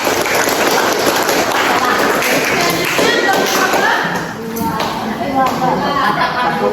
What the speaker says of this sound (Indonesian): berikan tepuk tangan dulu untuk kelompok 1